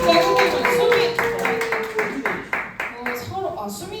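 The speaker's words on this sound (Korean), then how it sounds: "현중이에게 박수 한번 주시면 감사하겠습니다." A Sunday church congregation claps in a run of distinct, fairly rhythmic hand claps that thin out toward the end, with a voice talking alongside.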